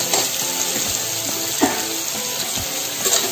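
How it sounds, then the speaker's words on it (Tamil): Onions sautéing in a hot pan for a ragi rava masala dosa filling, giving a continuous loud sizzle with occasional scrapes and stirs close by, no voices. "வெங்காயம் சேர்த்து நல்லா நம்ம வதக்கி விட்டுறோம்"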